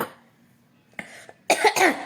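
An older person gives a few sharp coughs in quick succession, close and fairly loud, after a brief quiet stretch.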